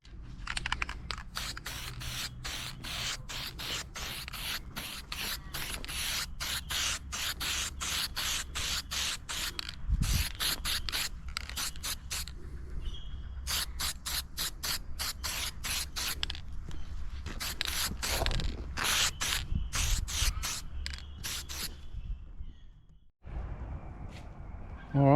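Aerosol can spraying paint onto rusty car parts from a barn-find XC Falcon, a long run of quick hissing bursts separated by short gaps, close and fairly quiet, with a brief pause near the end.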